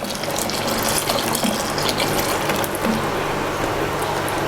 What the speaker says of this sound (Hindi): ये एक हाथ से चम्मच चलाते जाना है और दूसरे से ये डालते जाना है